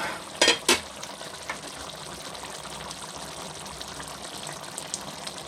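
Sweet and sour fish sauce bubbles and simmers in a pot with a soft, steady crackle and a couple of sharp clinks near the start.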